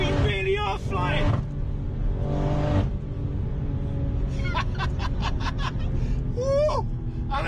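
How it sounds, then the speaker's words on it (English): A turbocharged BMW M240i with a B58 engine, running big boost, drones steadily from inside the car under loud talking and laughter, its engine tone holding beneath the voices. "As soon as that turbo spools, we're flying."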